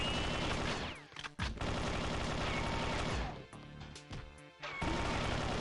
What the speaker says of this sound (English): The fire rate is much faster than regular rapid fire.